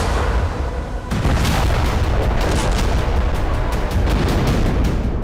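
Heavy blasts in Syria, a rolling roar of booms and rumbling detonations, with a sudden louder burst about a second in followed by dense, repeated thuds and crackles, loud and close.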